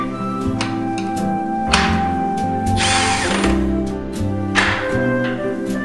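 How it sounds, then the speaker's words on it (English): Power drill driving six screws into a Performance Teamwork flip-top table during assembly, with repeated close, loud whirring bursts and clicking thunks from the screws seating, no talking. "drill the 6 screws securely into place"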